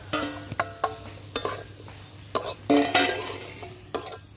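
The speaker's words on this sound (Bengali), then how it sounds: "এখন এর ভিতরে আলু আর এই যে মাংসটা আমি দিয়ে দেবো" Potatoes and chicken fried with cooked-down spice paste for a spicy stuffed pitha filling are stirred in a pan: repeated close scraping strokes of a spoon over a faint sizzle, with no speech.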